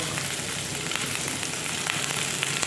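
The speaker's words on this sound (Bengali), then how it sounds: "তো সব পেঁয়াজ কলি দিয়ে দেবো, দিয়ে একটু নেড়ে চেড়ে একটু ভাজা ভাজা করে দেবো" Onion greens with salt fry in a pan with a loud, dense, continuous sizzle, and stirring scrapes crackle close by without pause.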